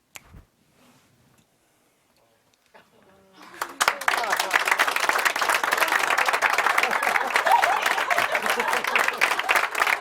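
Audience applause at a live demonstration, beginning after a near-silent pause with a few faint sounds, then swelling into a steady, full clapping from a large group that continues loudly to the end.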